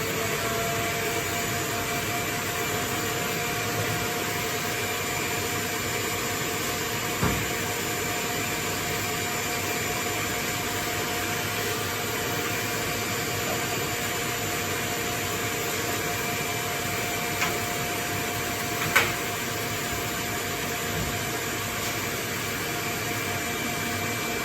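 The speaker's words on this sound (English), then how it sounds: "So now I'm just going to whisk up the egg white until it's soft peaks." Egg white being whisked to soft peaks for a hot chocolate soufflé, heard as a steady, even whirring drone that runs unbroken throughout with no talking.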